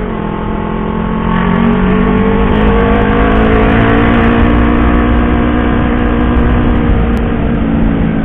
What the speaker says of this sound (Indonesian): Oh, rame, banyak bis yang lewat.